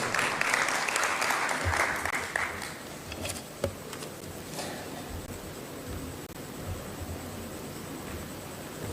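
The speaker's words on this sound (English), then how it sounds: "A round of applause." Audience applause at a Kenyan broad-based government meeting chaired by President Ruto, loud and dense for the first two and a half seconds, then fading to a low murmur with scattered faint claps.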